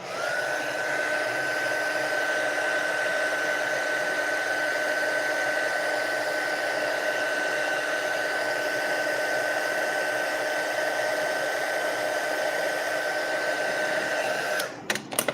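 A heat embossing tool blows a steady, loud whir as it heats foil on a Christmas card, running continuously for about fifteen seconds before clicking off at the end.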